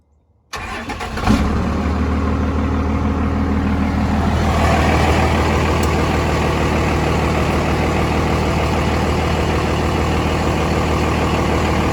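A straight-piped second-generation 12-valve diesel truck engine cranks over briefly, catches and settles into a loud, steady, rumbling idle close by, running alone without talk for the rest of the stretch.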